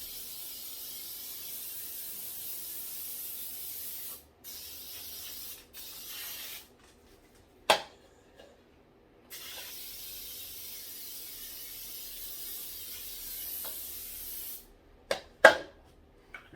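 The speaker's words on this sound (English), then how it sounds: "just going to take some nonstick spray here and make sure I spray the inside of the pan really good" Nonstick cooking spray hisses from an aerosol can into the inside of a cake pan in several long bursts, some lasting a few seconds, with short sharp clicks and brief spurts near the end, close and fairly quiet with no talking.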